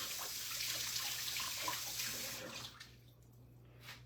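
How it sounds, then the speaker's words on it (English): Tap water runs steadily into a sink as hands are rinsed beneath it, a soft continuous splash that thins out toward the end. "let me rinse my hands off real quick"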